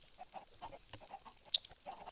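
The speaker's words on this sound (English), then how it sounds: "there's more chickens that are laying eggs" Soft, scattered clucking from a few egg-laying hens, fairly quiet, with one brief sharper squawk partway through.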